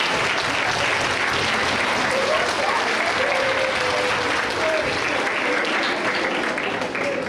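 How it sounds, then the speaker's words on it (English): A school assembly audience gives award winners and their parents a sustained round of applause, a dense, even wash of many hands clapping for several seconds, loud and filling the hall, with faint voices and cheers mixed in. "one more big round of applause,"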